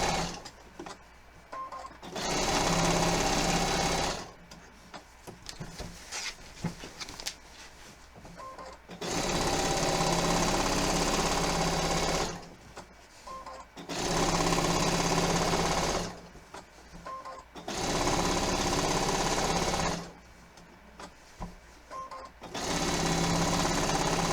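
A sewing machine basting a quilt runs in four long, loud, steady bursts of rapid mechanical stitching, separated by pauses filled with quieter clicks and handling noise.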